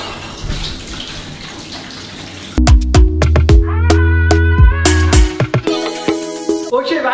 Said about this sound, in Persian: اوکی بچه ها، وان پر از آب شد.